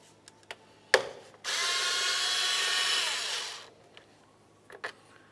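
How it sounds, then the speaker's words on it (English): A power tool spins off a 10 mm bolt on a 2012-2017 Toyota Camry during a radiator job, one steady whirring burst of about two seconds, close, framed by clicks and clanks of handling. "Let's start removing the bolts."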